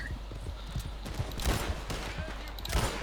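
Gunfire rattles in the Red Dead Online Western game, with rapid irregular shots and clattering hoof-like thuds mixed together, heard under excited talk.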